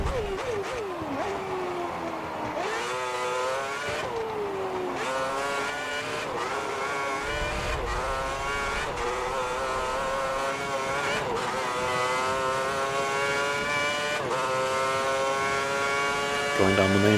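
F1 2010 race car on a wet track in a video game, its high-pitched engine screaming down the main straight with rising harmonic whines and sharp gear-change drops. The engine is loud and close throughout.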